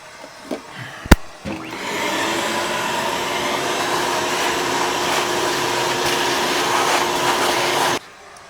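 Vacuum tester drawing on the intake valves of a rebuilt 283 Chevy Power Pack cylinder head, a loud steady rushing hiss for about six seconds after a couple of sharp knocks, then cutting off abruptly.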